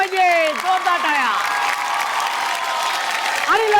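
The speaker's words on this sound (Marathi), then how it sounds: "जोरदार टाळ्या झाल्या पाहिजे, जोरदार टाळ्या" A studio audience at a Marathi television game show breaks into loud sustained clapping that fills the whole moment, with a host's voice and some musical sting running over it before fading near the end.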